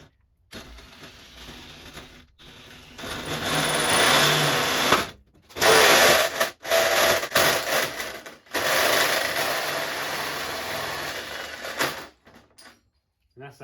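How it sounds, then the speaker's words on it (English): A power drill with a long bit bores a hole in a new firewall for a Z car Hayabusa mini build, whining loudly in several bursts of a few seconds each with short pauses between. "Now you'll see why I needed the longer drill bit"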